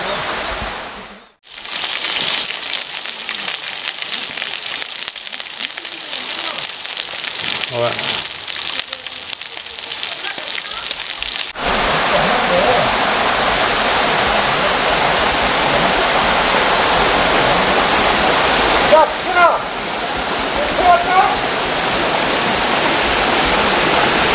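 A mountain valley stream rushes steadily beside a campsite, a loud continuous broadband wash that grows fuller partway through, with a few brief splashes and no clear speech.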